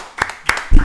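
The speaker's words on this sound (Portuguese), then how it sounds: "Palmas para a produção." Applause for a production team on a talk show: two sharp, close hand claps, then a louder burst of clapping begins right at the end.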